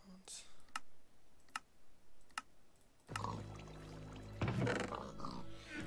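Computer keyboard keys clicking, a few sharp isolated taps at first, then a denser run of clicks as background noise rises, with a voice talking softly.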